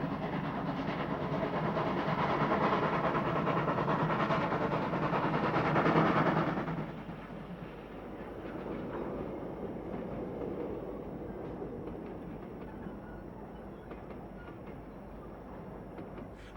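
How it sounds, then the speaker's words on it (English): South African Railways class 19D steam locomotive No. 2749 hauling a Pretoria-bound passenger train over a steel girder bridge near Hartbeespoort Dam, a loud sustained rumble and clatter that drops off as it passes, with no talking. "19D number 2749 heads a Pretoria-bound passenger train"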